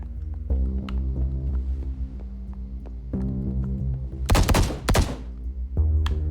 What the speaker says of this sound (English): The gunshots came from there.